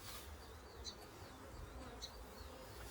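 Honey bees swarm around an opened hive during a colony split, giving a faint, steady low buzz with a few brief closer passes of individual bees and no voices.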